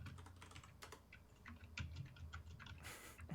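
Rapid, uneven clicking of keys being typed on a computer keyboard, close and fairly quiet, with a brief louder clatter near the end.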